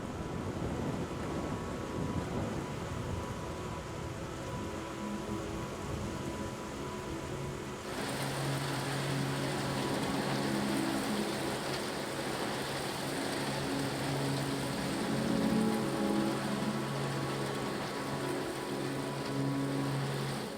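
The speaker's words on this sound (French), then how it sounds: "Mais au moins il pleut," Steady rain falling outdoors in Greece, a continuous hiss that grows louder partway through, mixed with wind noise and low rumbling, no voices.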